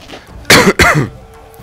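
Two sharp, close coughs in quick succession with a raspy throat-clearing quality, then quiet.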